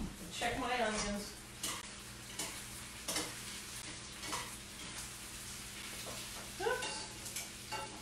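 Onions sizzle and fry in a pan with butter on a stovetop, a steady hissing bed punctuated by stirring scrapes, while someone talks over the cooking.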